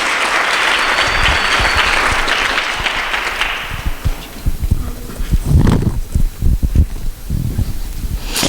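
Audience applause at a 2020 children's charity gala, loud sustained clapping filling the room before thinning out into scattered claps and murmurs.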